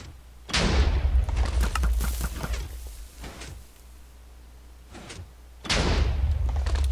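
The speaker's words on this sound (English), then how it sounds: "when you press the button, it shoots 5 arrows into that automatically" A compact Minecraft arrow cannon dispenser fires two bursts of five arrows, each a loud clattering volley with a low thump, separated by quieter gaps with faint clicks.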